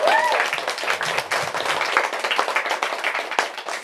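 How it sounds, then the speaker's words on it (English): Steady applause from an audience, many hands clapping continuously at moderate loudness with a faint voice at the start. "Let's give them a round of applause."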